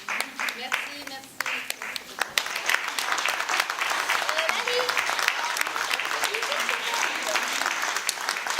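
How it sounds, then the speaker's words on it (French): An audience at a children's show claps loudly and continuously, a dense wash of overlapping handclaps that swells after the first couple of seconds and holds steady to the end. "Et merci d'applaudir très fort."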